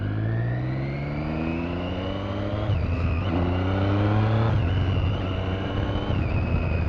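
A Triumph Street Triple R with a full Arrow exhaust accelerates hard, its engine note climbing and then dropping sharply twice as the quickshifter snaps through upshifts, loud and close.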